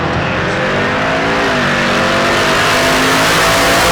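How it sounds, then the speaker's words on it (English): A Volvo wagon drag car with a supercharged LS engine blasts off at Tulsa Raceway Park, a loud, close, continuous roar that climbs steadily in pitch as it accelerates hard. "Doesn't sound like a Volvo wagon because it's got an LS with a blower under the hood."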